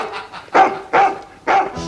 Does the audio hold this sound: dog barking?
yes